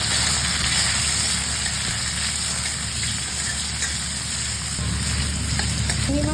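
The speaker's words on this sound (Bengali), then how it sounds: "গরম হয়ে গেছে, এবার চিংড়িটা ভেজে নেব" Prawns frying in hot oil give a steady, dense sizzle with a constant low hum underneath, holding level throughout with no voices.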